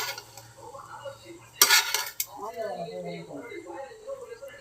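A lid clanks off a pot of kuska on a stove in one brief bright metallic scrape, followed by a few softer clinks while a person keeps talking throughout.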